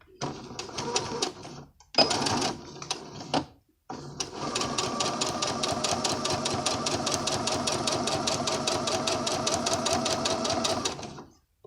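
A sewing machine stitches a scalloped skirt facing with polyester boning, running in two short bursts with a back stitch between them, then one long, steady, even run. The machine is close and loud, and no one speaks.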